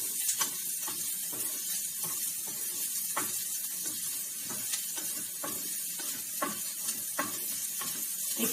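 Onions frying in hot mustard oil in a pan over medium-high heat, a steady close sizzle and hiss with periodic sharp scraping clicks of a utensil stirring, no voices.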